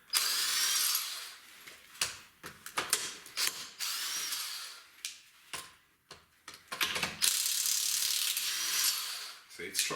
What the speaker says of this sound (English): It just doesn't sound very good when it ratchets.